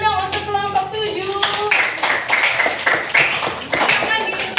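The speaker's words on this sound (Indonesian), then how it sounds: "tepuk tangan dong untuk kelompok 7" A group of students claps for a presenting group during a classroom teaching session, a short burst of hand claps rising after a brief spoken opening and continuing at moderate loudness.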